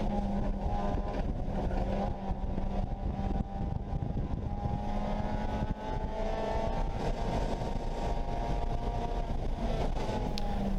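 A loud race car engine at a national-level racing event roars steadily throughout, a continuous high-revving drone with slight shifts in pitch.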